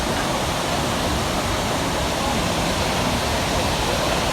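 Multnomah Falls in Oregon roars as a steady, loud, unbroken wash of falling water, filling the whole stretch with dense broadband rush and no other sounds.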